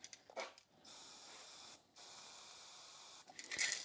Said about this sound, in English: But I'm basically just spraying into the can.